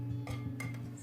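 Brussels sprout salad tossed in a bowl: a few quick clinks and scrapes of utensils against the dish over a steady low hum.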